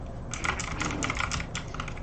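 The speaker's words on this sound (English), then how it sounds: "I got to my keyboard and mouse." Rapid clicking keystrokes on a computer keyboard, a quick irregular run of close taps with no voices.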